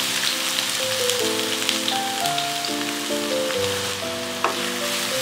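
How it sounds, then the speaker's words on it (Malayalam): Chopped white onion and carrot frying in melted ghee, a steady dense sizzle and crackle like light rain, close and continuous with no talking. "അപ്പോൾ നെയ്യ് ഒഴിച്ച് നന്നായിട്ട് ഉരുകി വന്നിട്ടുണ്ട് നമുക്കതിലേക്ക് നമ്മൾ അരിഞ്ഞു വെച്ച സവോളയും ക്യാരറ്റും കൂടി ഇട്ട് കൊടുക്കാം"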